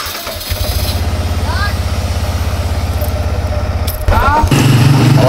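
A Yamaha R15 V4 motorcycle engine runs steadily at idle just after an oil change, loud and close, with a brief rev or jolt near the end and faint background sounds over the drone.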